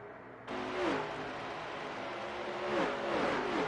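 Race car engines rev in a racing video game during a league race, several cars droning together with rising and falling pitch sweeps, steady and fairly loud after a quieter opening.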